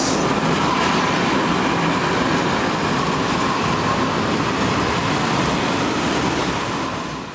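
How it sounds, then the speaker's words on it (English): Vossloh G2000BB diesel locomotive with an asymmetric cab, built in 2001, passing close by as a loud, steady rumble and rolling wagon noise that holds for the whole stretch and fades slightly at the end. "The company has recently acquired 6 of the new Vossloh G2000BB diesels with the unusual asymmetric cab design."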